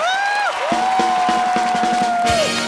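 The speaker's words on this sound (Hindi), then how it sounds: "एक बार जोरदार तालियां ग्रेट ग्रैंड मस्ती की पूरी स्टार कास्ट और डायरेक्टर साहब मिस्टर इंद्र कुमार जी के लिए।" A studio audience cheers and applauds on The Kapil Sharma Show, loud and sustained, with whoops and a musical sting playing over the crowd noise.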